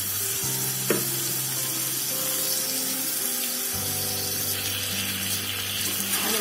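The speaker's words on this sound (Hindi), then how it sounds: "अब मैं इसमें डालूंगी चिकन। तो मैं चिकन ली थी अब मैं इसको डाल दूंगी।" Raw chicken goes into a hot pan for a rustic Bihari-style chicken curry, bursting into a loud, continuous sizzle with low bubbling hums and an occasional clink, close up and without speech.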